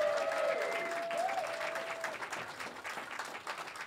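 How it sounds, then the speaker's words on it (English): A live audience at a season premiere taping applauds warmly, a full wash of clapping with a brief excited vocal cheer early on, easing slightly toward the end. "You can clap, you're excited."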